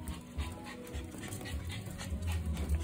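A Pomeranian makes soft, close vocal sounds indoors, with low yips and panting-like huffs that come in short bursts over a steady background.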